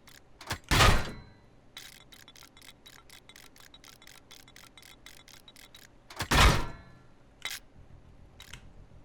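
Crossbow bolts thudding into a wooden door in the survival game Rust: two loud, sharp impacts several seconds apart, with a rapid string of faint ticking clicks between them and a couple of softer knocks near the end.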